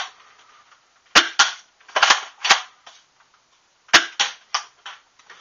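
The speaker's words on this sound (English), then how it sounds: "you can hear the pop every time one of the darts leaves the barrel" A modified Nerf Cycloneshock foam dart blaster fires a rapid series of sharp pops, about ten in irregular bursts, close and crisp against near silence between shots.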